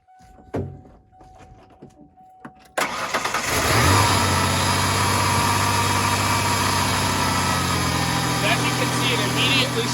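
A pickup truck engine with a new idle air control valve fires up after a few clicks and thumps, then settles into a loud, steady high idle close by.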